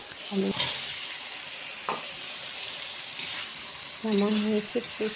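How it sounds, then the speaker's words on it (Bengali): Potatoes sautéing in a pan for a crab and potato curry, a soft continuous sizzle with occasional scraping stirs and light clinks, a voice speaking briefly over it. "আলুটা ভালো করে কষিয়ে নিলাম"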